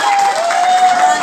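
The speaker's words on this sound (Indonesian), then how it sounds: "Tepuk tangan untuk teman." A school audience of students and teachers applauds a student, a steady wash of clapping and crowd noise that runs through the whole moment with a thin tone held beneath.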